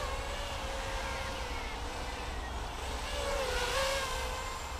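An EMAX Nighthawk Pro 200 drone flies at full throttle, a steady high-pitched buzzing whine of motors that rises and swells near the end, heard alone at moderate distance.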